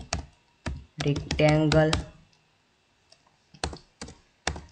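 Quick runs of clicks from a computer keyboard as C program code is typed, in short bursts with pauses, while someone talks through the middle stretch.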